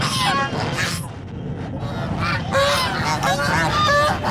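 Geese or other fowl honk and call repeatedly at close range in an outdoor bird enclosure in Pakistan, loud and overlapping, with a voice talking among them.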